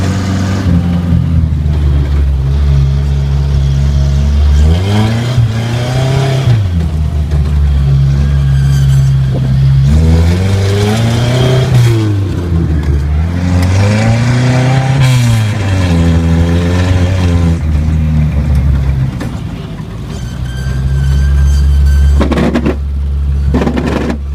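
A 1980 Chevy Luv pickup engine with a freshly swapped carburetor revs repeatedly and loudly up close. Its pitch rises and falls in several smooth sweeps over a rumbling idle.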